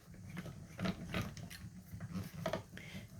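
A hand-cranked die-cutting machine feeds card stock through its rollers, giving a steady, close grinding and whirring of gears with a rhythmic mechanical clatter throughout, and no voices.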